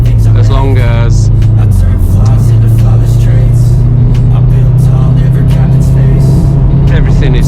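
A 306 hp VW Golf R MK7.5 accelerates up a hill, a loud, close, sustained engine drone whose pitch climbs in the opening seconds and then holds high.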